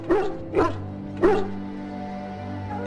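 A dog in Dragon Age Origins gives three short, distinct barks or yips spaced unevenly over a low steady game background hum, close and clear, with no one speaking.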